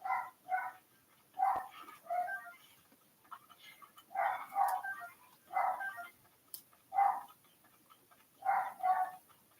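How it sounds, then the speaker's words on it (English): A dog in Tears of the Kingdom barking repeatedly in short paired bursts, steady and fairly close, over a faint low game background with no talking. "Dog is losing her mind over something."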